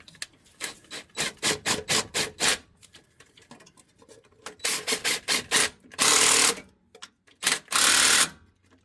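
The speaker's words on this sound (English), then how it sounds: "I just tightened it up with the 3/8 DeWalt" A 3/8-inch DeWalt impact gun tightens starter bolts on a 2009 GMC, rattling in two close, loud bursts of rapid hammering with short pauses between, ending in longer sustained runs.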